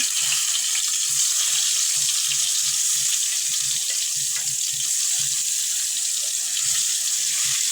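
Eggplant pieces frying in hot oil in a pan, just after rui fish was lifted out, give a steady, bright sizzling hiss throughout, with soft low thumps underneath.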